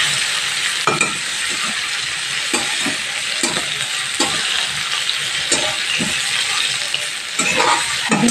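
Eggs sizzle steadily in a hot pan while being cooked for an egg and potato curry, with soft, repeated scraping and clinking as they are stirred and flipped, continuous and close with no talking.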